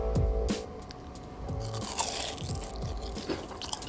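Crisp, loud crunches of homemade shrimp toast being bitten and chewed, a few sharp bites followed by steady close-up chewing, with no talking.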